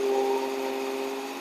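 A BMW E92 M3 with a DCT gearbox holds a steady 2000 RPM, giving an even, continuous drone with a strong low hum and no voices over it.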